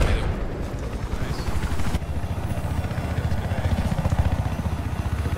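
Helicopter rotor noise from a Battlefield 4 conquest match on the Paracel Storm map, a steady low rhythmic chop filling the whole clip with busy game ambience and faint speech around it.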